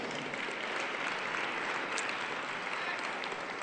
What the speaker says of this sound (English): You see how much applause I'm getting